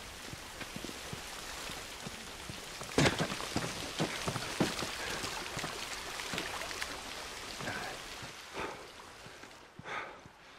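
Rain in The Last of Us falls steadily on surfaces, a dense hiss scattered with sharper drops and splashes, with no talk over it.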